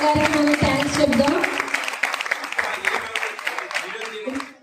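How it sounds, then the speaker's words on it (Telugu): An audience claps for a guest at a Christmas gathering, a sustained ripple of applause mixed with voices talking over it, fading near the end. "చప్పట్లు కొడుతూ అమ్మగారికి మనం థ్యాంక్స్ చెప్దాం."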